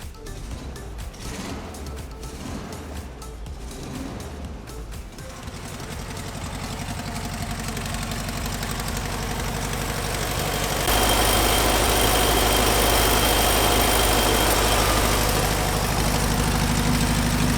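A freshly rebuilt 1972 Volkswagen Transporter Type 2 engine with new pistons, rods, crankshaft and carburetor idles steadily close by, its rumble swelling after a few seconds and holding at a louder, even level.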